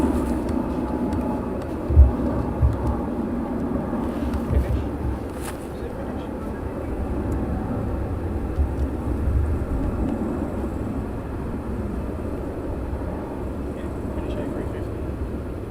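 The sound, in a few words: Finnair A350 airliner flying overhead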